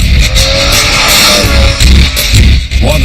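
A Lamborghini Murcielago, the flagship sports car, drives past loudly with a roaring engine and a brief tyre squeal, continuous and dense throughout.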